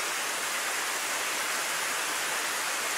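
Steady, dense hiss of heavy pouring rain in the video game Steins;Gate 0, continuous and even throughout with no voices.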